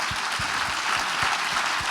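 An audience at a conference talk claps steadily and evenly for about two seconds, a dense and moderately loud round of applause with no voices on top.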